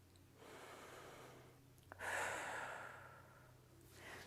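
A slow, deep breath is drawn in and then let out audibly during a gentle exercise class for older adults, with a quiet pause before the inhale and faint breathing continuing after.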